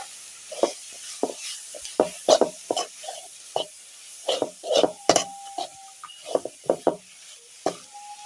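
Banana flower mixture stirred in a pan, with repeated close scraping and tapping strokes of a spoon in an irregular rhythm over a faint sizzle.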